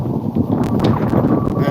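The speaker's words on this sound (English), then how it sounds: "And boy, is it windy" Strong gusting wind buffeting a microphone outdoors at a riverside state park, a loud continuous low roar that swells and eases throughout.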